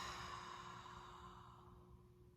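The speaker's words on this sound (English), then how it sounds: "and slowly breathing out" A slow, steady breath out is heard close and fairly quiet, a long airy exhale that fades gradually over a couple of seconds with no talking.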